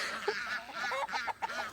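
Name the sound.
ducks quacking and honking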